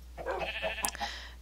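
A sheep bleats on a farm in the Minecraft video game, a single wavering nasal bleat heard close and clear, followed by a short sharp click.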